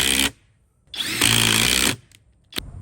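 FLEX impact driver sinking 2.5-inch deck screws at speed 3, two loud bursts of high-pitched whirring and rapid hammering, the second longer, followed by a short final blip.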